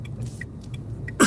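A driver coughs once inside a car, a short sharp burst near the end over the steady low rumble of the moving vehicle's cabin.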